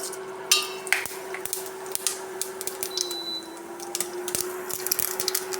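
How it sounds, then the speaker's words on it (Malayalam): Mustard seeds crackling in a spoonful of hot oil in a cooker during Kerala-style tapioca and sardine biryani preparation: scattered sharp pops and ticks over a steady hum, no talking. "ഒരു സ്പൂൺ എണ്ണ വെച്ചിട്ടുണ്ട് ഇനി നമുക്ക് കുറച്ച് കടുക് പൊട്ടിക്കാം"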